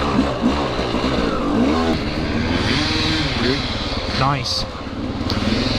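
A Honda XR400 or KTM 300XC-W dirt bike engine revs and loads up during a trail ride, its buzzing drone running steadily under close conversation, with one brief rising rev near the end.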